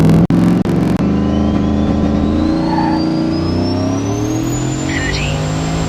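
Turbocharged car engine on a roadside test run, a few sharp clicks then a long steady climbing rev with rising turbo whine, loud and close from inside the car.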